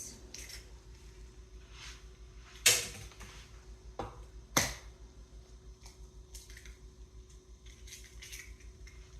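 Eggs cracked for an egg wash in a home kitchen while chicken scaloppini is prepared, two sharp cracks against a bowl rim standing out over a low steady hum, with faint clinks of kitchenware between them.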